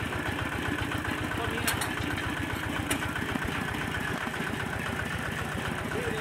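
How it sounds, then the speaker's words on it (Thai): Micropile foundation piles are driven by a pile driving machine at a house construction site, with a steady, loud rhythmic mechanical pounding and engine rumble running throughout and a few sharp metallic clanks. "ตอนนี้เป็นการเริ่มตอกเสาเข็มนะครับ"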